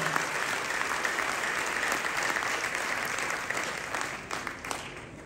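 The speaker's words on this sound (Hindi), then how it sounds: "एक बार जोरदार तालियों के साथ उनका स्वागत" A large crowd at an outdoor Meri Mati Mera Desh Amrit Kalash Yatra rally breaks into loud, sustained applause to welcome Amit Shah, a dense wall of clapping that runs unbroken throughout and fades only slightly near the end.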